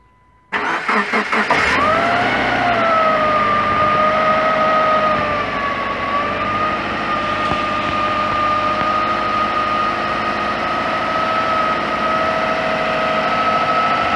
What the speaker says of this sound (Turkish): Şu an araba çalışıyor.